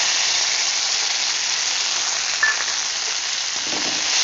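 Red amaranth stalks fry in oil with crushed garlic in a pan on a gas stove, producing a steady, loud, dense hiss of sizzling with one brief pop partway through.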